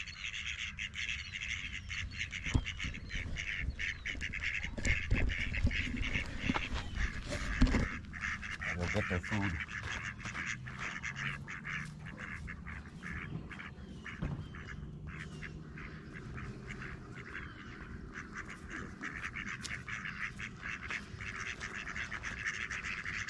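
A small flock of five ducks on a farm quacks steadily and fairly close throughout, with a person speaking briefly among them.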